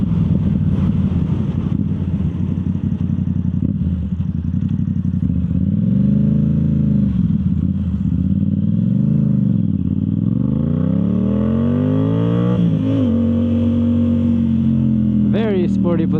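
A Yamaha YZF R7 with a Yoshimura full exhaust rumbles steadily while riding, its engine note rising and falling through revs and gear changes, loud and continuous.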